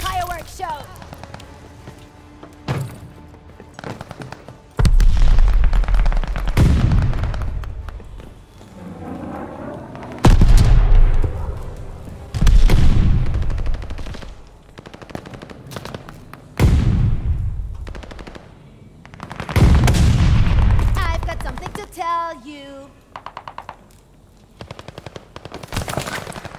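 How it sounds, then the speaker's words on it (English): Artillery shells burst in Call of Duty: Vanguard multiplayer on the Paradise map, a series of loud, deep booming explosions every few seconds mixed with sharp gunfire crackle and game noise. "Watch your head, shell's falling!"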